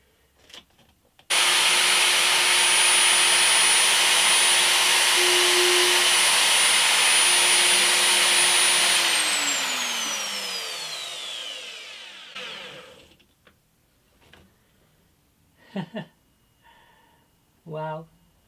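A router cuts into the spruce top of an antique parlour guitar, a loud steady broadband whine that runs for about ten seconds, then winds down as the motor spins to a stop, followed by a few light knocks and handling sounds.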